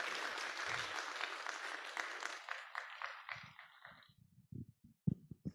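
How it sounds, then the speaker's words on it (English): Applause from a conference audience for presenters and commentators at the end of a session, full and steady at first, then thinning into a few scattered claps before fading out. "Please give another applause to our presentators and commentators."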